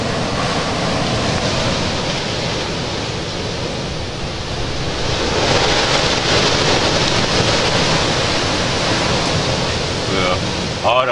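Very strong wind blasting at the microphone outdoors, a loud continuous roar that swells midway and stays dense throughout, drowning out any other sound.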